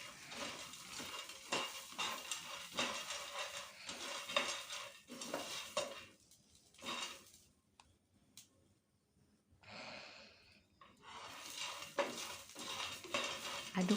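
Dried corn kernels being dry-roasted for salted popcorn and stirred in a pan, with a rattling scrape of a utensil against the pan in bursts, a quiet pause midway, then stirring resumes.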